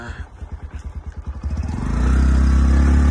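A motor vehicle carrying five people, its engine throbbing in rapid, uneven pulses before settling into a loud, steady, close drone.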